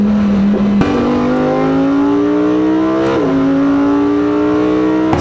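Supercar in Corsa mode accelerating hard on a Dubai road, its engine note climbing steadily through the gears with two quick shifts, loud and close throughout.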